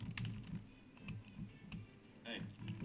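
Repeated clicks from a mouse button while playing Magicka, sharp taps spaced irregularly about every half second, close and fairly quiet over low background hum with faint voices.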